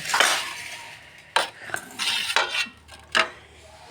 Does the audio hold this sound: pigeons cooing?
no